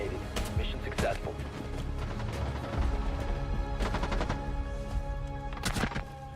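Rapid gunfire from a weapon in the Rainbow Six Siege video game, several sharp bursts over a steady bed of in-game noise, with a person talking throughout.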